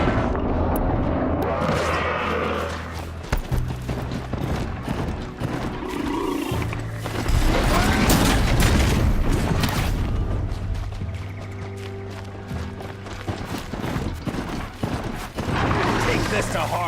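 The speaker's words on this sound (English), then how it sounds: "I've been using the wrong type of bomb. I've been using sticky bombs." Sticky bombs detonate in the video game Horizon Zero Dawn as repeated heavy booms and crackling blasts, loud and close, mixed with clattering game action and a low musical drone.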